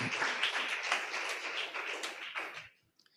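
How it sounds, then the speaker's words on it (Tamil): A church congregation claps their hands together in a dense burst of applause that carries on for a few seconds and then stops abruptly. "நல்ல கைத்தட்டி ஆண்டவருக்கு நன்றி சொல்லுவோம்"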